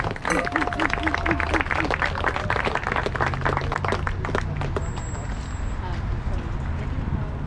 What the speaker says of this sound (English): Give a round of applause to him, please.